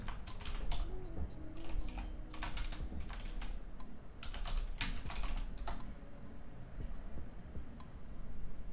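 Fingers type on a computer keyboard while setting up a WordPress website, producing quiet, irregular bursts of close key clicks with short pauses and no voices.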